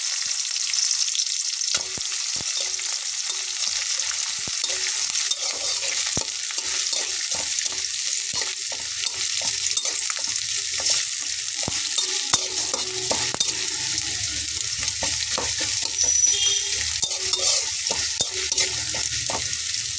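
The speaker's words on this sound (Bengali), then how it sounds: "এপাশে আমি পেঁয়াজ এবং রসুনটা ভেজে নেব।" Onion and garlic fry in a pan with a loud, steady hiss and crackle. Frequent light clicks and scrapes of stirring run through the twenty seconds, and no voices are heard.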